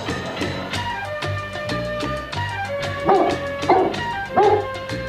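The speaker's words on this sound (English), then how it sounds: "You've got a great watchdog. He barks every time someone comes to the door" A dog in a radio advertisement barks and yips repeatedly in quick bursts, loud and close, with whimpering notes between barks.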